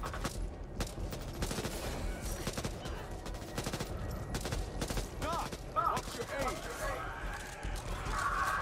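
Gunfire in the zombie shooter Back 4 Blood, bursts of rapid shots and single cracks peppering the scene steadily, with a voice talking over the shooting throughout.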